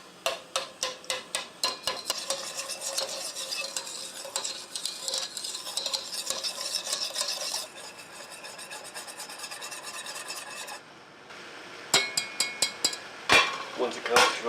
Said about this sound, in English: I always like to stir it constantly